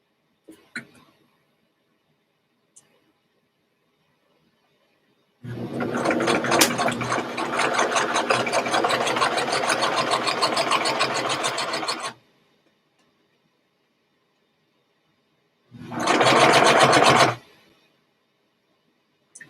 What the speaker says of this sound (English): Now I'm just going to hem the other end of the filter pocket, right? Just going to do a quick stitch down here.